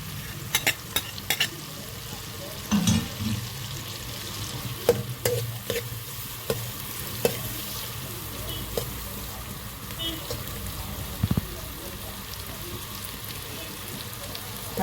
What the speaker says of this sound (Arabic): هنحمر البصلايه وارجع لكم تاني